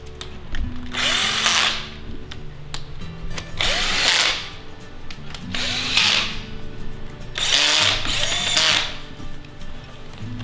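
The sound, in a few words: power drill driving bolts into plastic cage frame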